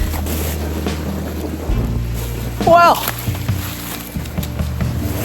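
Steady wind rushing and buffeting outdoors high up on a hiking trail, with a brief spoken word partway through over the low, constant roar.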